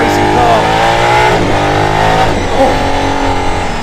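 The Aston Martin road-legal F1-derived car's engine revs loud and close, its pitch climbing, dipping around gear changes and climbing again in continuous high-pitched acceleration.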